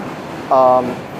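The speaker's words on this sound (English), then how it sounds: "This is West 8th Street, New York Ferry. Transport is available to the Q train." A New York subway train at West 8th Street station: a short, bright tonal chime-like signal rises briefly over a steady low rumble of the platform and train.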